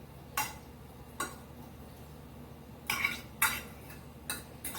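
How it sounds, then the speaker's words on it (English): Shrimp tossed with seasoning in a bowl, giving a few separate clinks and scrapes of a utensil against the dish at irregular intervals, close and soft over a quiet background. "and then we're just gonna mix it together"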